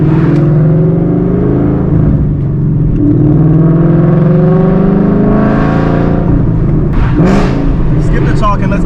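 A Ford Mustang fitted with American Racing 1-7/8 inch long tube headers revs hard and downshifts up close, its loud exhaust note rising and falling in sweeping pulls, with a voice audible underneath.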